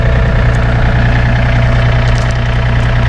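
A 2019 John Deere 3025E compact tractor fitted with a 300E loader and 370B backhoe, its engine idling with a loud, steady, low throbbing hum close by.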